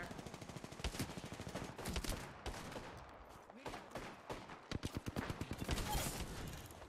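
Rapid automatic gunfire from the Apex Legends video game rattles in dense, repeated bursts with brief pauses, fairly quiet overall in a shooter match.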